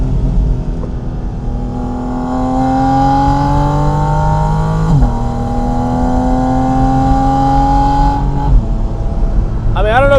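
Porsche Spyder RS flat-six engine and air intake revving up through rising pitch, dropping briefly, then climbing again, loud and close with a sharp burst near the end.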